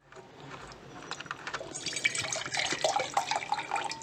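Water runs from a water can out through a pipe into a bottle, a steady splashing trickle that grows louder and denser as it fills.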